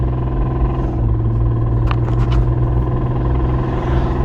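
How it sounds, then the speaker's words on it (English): A 2002 BMW 325i engine under acceleration while driving, a loud steady close rumble inside the car with a faint ticking tap and a few brief higher clicks partway through. "as I put on the gas, you can kind of hear it tapping"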